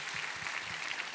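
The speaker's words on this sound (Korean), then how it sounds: "우리 하나님께 감사와 영광의 박수 올려드리겠습니다" A church congregation claps together in worship, a steady, dense wash of many hands that stays even and moderately loud for the short moment, with no voices over it.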